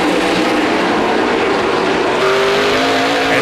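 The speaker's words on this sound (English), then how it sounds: "these NASCAR stock cars are not the easiest animals to tame" NASCAR stock cars roar around a racetrack during a Komatsu 300 race, a loud continuous blend of engine drone with a rising pitch as cars pass, with no voices over it.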